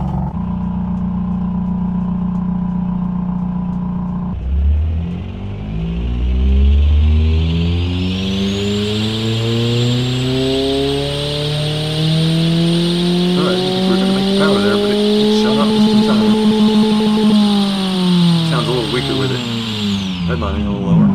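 A simulated car engine in Automation, with the rev limit lowered, revs up, holds near redline and drops back, rising and falling over about twenty seconds under a steady, close whine while someone talks over it.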